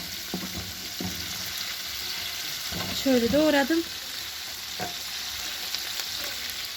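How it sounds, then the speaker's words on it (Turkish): Constant loud sizzling of peppers frying in hot oil fills the clip, close and steady, while someone speaks briefly partway through. "Kızgın yağımın içine biberimi attım hemen"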